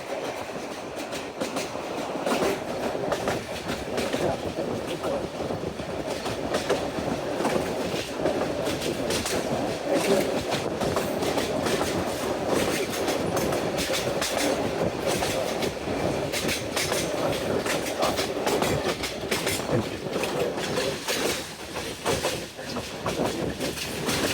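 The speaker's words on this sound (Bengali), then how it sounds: "অল্প সময় আমাদের ট্রেনটি Dhola railway station through pass করে যাবে" The Jamalpur Express passenger train rumbles through Dhala railway station in Bangladesh with a steady, heavy roar and rhythmic clattering of wheels, close and continuous.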